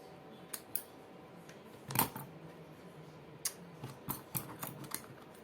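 Scissors snip through material while making a craft heart from ice-cream sticks, heard as a few sharp, close clicks and cuts scattered over a quiet background.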